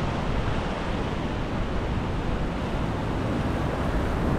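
Steady broadband rush of sea waves breaking on the beach at Praia da Rocha in Portimão, a loud, continuous wash with wind and no voices.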